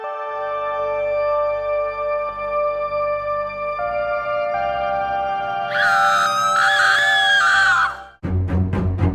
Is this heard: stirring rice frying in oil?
no